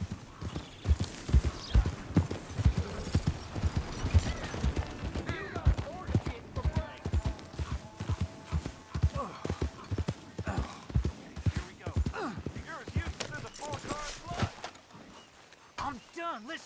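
Horse hooves clip-clop steadily while riding in the Red Dead Redemption 2 game, a rhythmic, fairly close trot with a few louder hits near the end.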